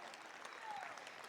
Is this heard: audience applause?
yes